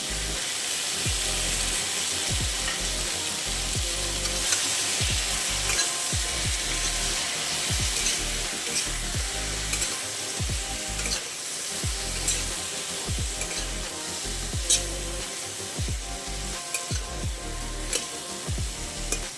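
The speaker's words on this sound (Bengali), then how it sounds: "মিডিয়াম ফ্লেমে ভেজে নিচ্ছি। একটু ভালো করে কুমড়োটা একটু ভেজে নিতে হবে।" Pumpkin pieces frying in oil over a medium flame, a steady close hiss of sizzling with repeated soft scrapes and knocks of a spatula stirring in the pan, continuous and fairly loud throughout with no talking.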